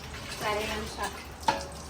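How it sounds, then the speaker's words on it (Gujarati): Water runs from a tap with faint clinks and splashes of dishes being rinsed, a voice talking softly over the steady flow. "ધોઈ રહી છે વાસણ"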